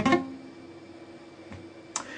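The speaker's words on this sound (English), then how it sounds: "If you're not pressing firm enough, you will get a muffled sound like this." A guitar chord strummed without pressing the strings firmly enough, giving a short, dull, muffled thud that dies almost at once, followed by faint string and hand noises, quiet and close.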